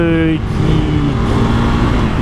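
A single-cylinder motorcycle engine running while being ridden, a loud close drone with a shifting pitch at the start, with someone talking over it.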